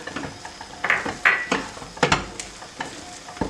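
Höşmerim being stirred and mashed in a pot, the spoon scraping and knocking against the pan in irregular bursts with soft sizzling beneath, close and fairly quiet.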